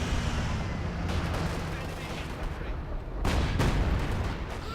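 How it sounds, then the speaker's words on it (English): Artillery fire in the video game Company of Heroes 2 rumbles as dense, continuous battle noise with heavy booming impacts, including a louder blast near the end, under a commentator's voice. "More artillery."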